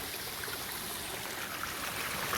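Small jungle waterfall stream trickling and splashing steadily over rocks, a continuous close wash of water with no voices.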